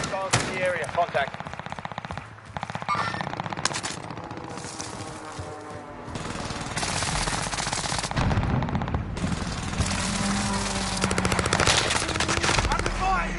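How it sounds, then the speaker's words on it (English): Rapid automatic gunfire from a Call of Duty match, long dense bursts and overlapping shots close and loud for the whole stretch, with game voice callouts mixed in. "Under fire here!"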